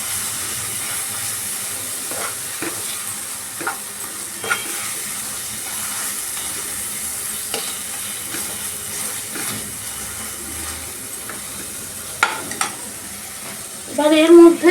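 Smoky eggplant bharta, Bihari style, is mixed in a pan with a soft hiss of frying and scattered scrapes and taps of a spoon against the pan, ending in a brief louder clatter.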